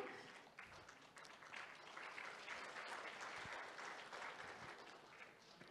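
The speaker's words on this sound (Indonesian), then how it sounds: "Kita berikan tepuk tangan yang meriah." Audience applause at an Indonesian government launch ceremony for a halal product certification program. Many hands clap in a steady, even wash that sounds faint and distant throughout.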